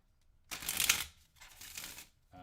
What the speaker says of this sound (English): I'm shuffling, and we're going to play this game of high-low real quick, cutting the deck